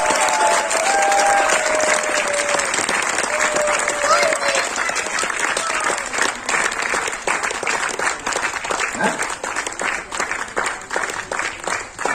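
Sustained audience applause at a seminar app launch for the new Nexshopy version, loud, dense clapping from a large crowd that continues steadily for over ten seconds with faint voices mixed in.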